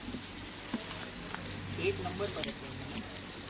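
Hot oil sizzles in a pan over a wood-fired earthen stove at an outdoor chicken party, a faint steady hiss with a few soft stirring knocks and a voice in the background.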